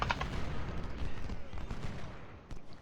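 Cannon and artillery fire in a Civil War battle from the Ultimate General: Civil War game, fought at Cedar Mountain, heard as dense rolling booms and crackling gunfire that continue steadily throughout.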